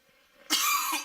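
A single harsh cough bursts out close to the microphone, a brief loud rasp after a quiet moment.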